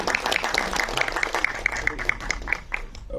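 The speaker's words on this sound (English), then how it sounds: "Can we have a huge round of applause" Audience at an Ek Villain Returns film press meet in Delhi gives a round of applause, scattered rhythmic claps rising among a crowd with voices murmuring underneath.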